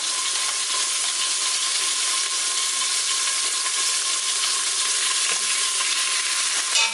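Beef coated with flour sizzles and fries steadily in a pot as it is stirred and browned, a dense, even crackle close by with no talking.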